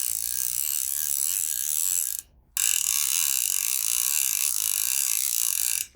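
Hardy Perfect fly reel ratchet clicking rapidly in a dense buzzing stream as line is pulled, close and fairly quiet, pausing briefly before resuming.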